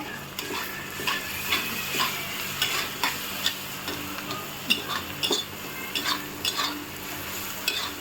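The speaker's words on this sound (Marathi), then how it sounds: "आता हा मसाला बारीक केलेला आपण तेलामध्ये भाजून घेऊया। मिरच्या थोड्या चांगल्या भाजून घ्यायच्या।" Ground masala and chillies roast in hot oil in a pan for pitlà with fenugreek, giving a continuous soft sizzle broken by intermittent sharp spoon clicks and scrapes against the pan, close and clear.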